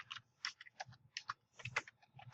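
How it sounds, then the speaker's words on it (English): Computer keyboard keys typed in quick irregular bursts while entering commands in Matlab, close and fairly quiet, with short pauses between clusters of clicks and no talking. "So I can now type in image X"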